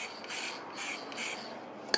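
Krylon UV-resistant gloss acrylic sealer hisses from an aerosol can in several close, steady bursts, with brief pauses between sprays and a small click or tap at the end.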